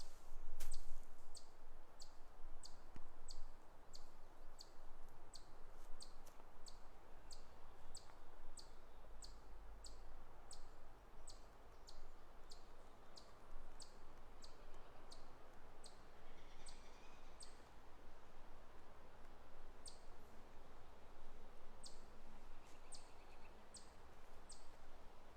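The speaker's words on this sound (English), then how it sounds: "Chipmunks are chirping, birds are chirping." Chipmunks and birds chirp in a summer forest, with a rapid series of sharp high chips repeating rhythmically across most of the stretch amid quiet woodland ambience, fairly faint and distant.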